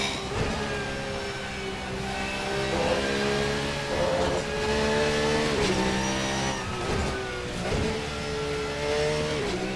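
A GT3 race car in Assetto Corsa laps the Nordschleife, its engine revving hard through repeated upshifts and downshifts, with rising and falling whine and occasional tire squeal, loud and continuous throughout.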